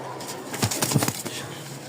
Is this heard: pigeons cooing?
yes